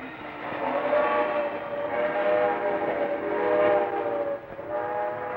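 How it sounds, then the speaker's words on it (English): Switch engines and rail cars move through a busy railroad yard, giving a continuous rumbling, grinding roll with faint tonal squeals, steady and moderately distant. "This was a very busy yard, with many switch engines working, cars moving back and forth"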